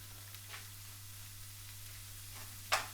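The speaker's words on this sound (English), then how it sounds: "So we're going to get that browned up for a bit." Beef mince browns in a dry frying pan with no oil, giving a faint, steady sizzle throughout, broken by a few soft stirring scrapes and a short sharp clink near the end.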